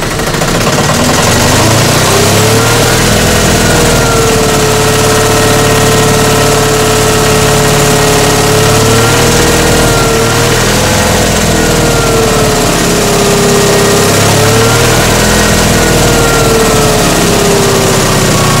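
A generator engine is started and then runs at a steady idle, loud and close, with a constant droning hum and a slowly wavering pitch throughout.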